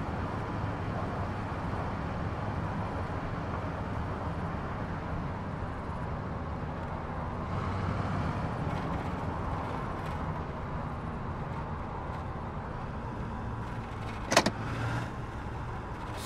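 Military truck driving in ArmA 3, a steady engine drone and road rumble from inside the cab, constant throughout with a sharp knock near the end and no talking.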